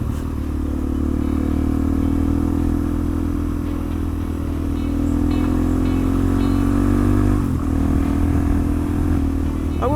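Motorcycle riding along a green lane, its engine droning steadily and continuously at close range with a slight rise in pitch midway, plus some rattle and rumble, no talk.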